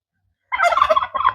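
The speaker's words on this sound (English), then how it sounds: "Hi, Turkey." A turkey gobbles on a farm, close and loud, with a rapid rattling burst followed by a shorter second burst after a moment of silence.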